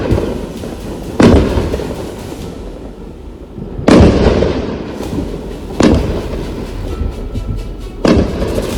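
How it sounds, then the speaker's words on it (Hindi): Loud explosions from drones shot down over Amritsar go off as four sharp, booming blasts a couple of seconds apart, each trailing into a rumbling echo over steady background noise. "एक बार फिर से सुनते हैं अमृतसर से आई इन तस्वीरों में किस तरह से जोरदार धमाका हो रहा है।"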